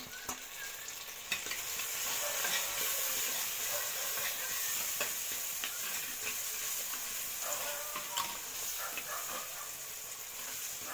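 Tomatoes go into browned onions frying in a sand pot, bringing a steady loud sizzle and hiss with occasional stirring scrapes, close and continuous throughout, no speech.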